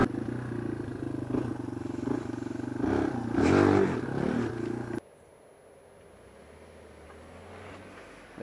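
Off-road vehicle driving into a mud pit, its engine revving steadily and roaring louder with splashing and clatter for about five seconds before cutting off abruptly to quiet background.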